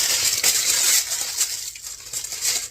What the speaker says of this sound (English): So my parchment paper, a little trick I learned is to crumple it up